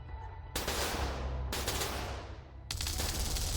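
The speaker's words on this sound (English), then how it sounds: "As we are engaging, yeah, a lot of Vulcan cannons, but we still get shredded by their missiles" Vulcan cannons fire during a space battle in the Stardrive strategy game, three long sustained bursts of dense, rapid gunfire that cut in abruptly, loud and close with no talk.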